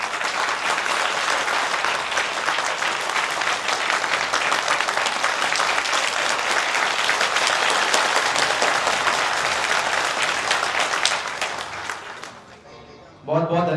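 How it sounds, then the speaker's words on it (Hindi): A talk audience gives loud, sustained applause for about eleven seconds that then fades out, and a voice comes in near the end. "एक बार जोरदार तालियों से।"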